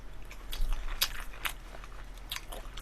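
Someone bites and chews sweet and sour pork coated in seasoned sauce, with close, crisp crunches and wet chewing sounds repeating at irregular intervals. No talking is heard.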